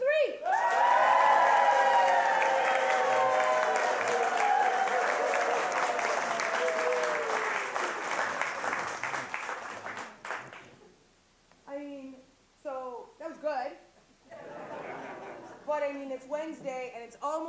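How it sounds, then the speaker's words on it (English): A live audience at a radio broadcast bursts into loud clapping, yelling and cheering that fills the first ten seconds, then dies away as a single voice starts talking. "On a count of three, I want you to yell, clap, scream, show me how excited you are."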